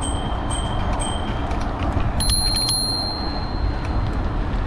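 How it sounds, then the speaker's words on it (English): A bicycle bell rings a few quick bright dings on a roadside bike path in the Florida Keys, over steady wind and road noise outdoors. "That was the incorrect number of bells."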